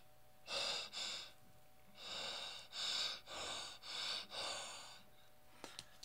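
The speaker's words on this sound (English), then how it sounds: "if I just put my breath over this" Close, breathy exhalations blown onto a DHT11 humidity sensor: two short puffs, a pause, then five rhythmic breaths in a row, airy and hissing, followed by faint clicks, with no talk.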